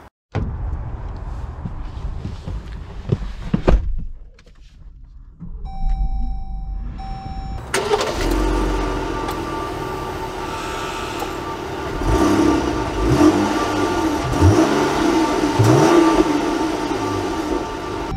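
A 2022 Jeep Grand Cherokee Overland sits in a quiet cabin, a steady electronic chime sounds, then the engine fires up loudly and settles into a continuous low hum as it pulls away, with rumbling road noise throughout.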